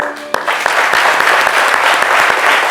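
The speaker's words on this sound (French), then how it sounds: "je crois que ça s'applaudit" Audience applause on a French midday TV show, a dense, steady burst of many hands clapping close and loud, with a few sharper claps standing out and faint voices underneath.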